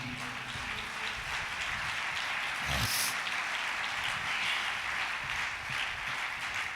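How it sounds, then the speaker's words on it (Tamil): A church congregation claps during a Tamil worship service, making a dense, even wash of applause that runs steadily throughout, with one brief louder burst midway. "நல்ல கைத்தட்டி"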